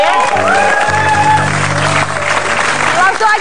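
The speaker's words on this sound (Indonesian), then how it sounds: "Oke, baik, kita akan tepuk tangan dulu ya." Steady applause from a studio audience on an Indonesian television talk show, a dense wash of clapping mixed with music and voices, loud and continuous throughout.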